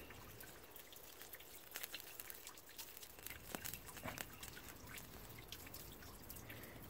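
Water drips steadily off a wax-sealed fire starter just lifted from a dunk, quiet close patters and small splashes spread irregularly over a faint background hiss, no voices.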